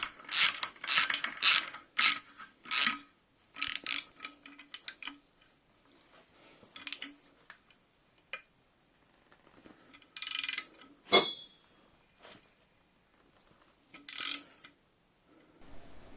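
Bolts on the engine head of a Triumph TR7 being tightened with a ratchet, giving repeated bursts of quick, close ratcheting clicks separated by pauses, followed by a few metallic clanks near the end.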